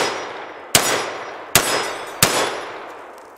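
A Remington V3 Tactical 12 gauge shotgun fires three heavy 3-inch loads: three loud, sharp blasts spaced about a second apart, each trailing off into a short echo, with no talking.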